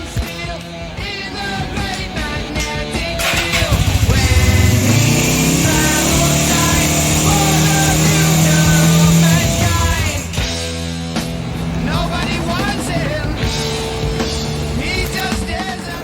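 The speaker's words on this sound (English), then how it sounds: "Let's hear more motorcycle noises." A loud motorcycle engine with carburetor problems and a possible air leak revs and runs unevenly, its pitch rising and holding before dropping back to a rough idle.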